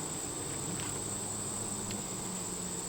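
Honey bees hum steadily around an open hive on a hot day, a soft continuous buzz close by with no talking.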